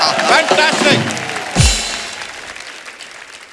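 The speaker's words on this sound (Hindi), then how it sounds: "इनके लिए एक बार जोरदार तालियां" Audience applause at a live comedy show, a loud burst of clapping and crowd noise that fades away over a few seconds, with a voice speaking briefly over the start.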